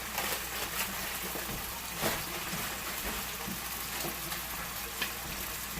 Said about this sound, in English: once you start sauteing spinach, it sautés down pretty much